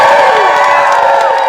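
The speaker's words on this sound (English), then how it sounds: "Give yourselves a big round of applause for showing up here today." Outdoor crowd at a Florida state parks press conference in Stuart, cheering and whooping loudly in a sustained roar with voices blended together.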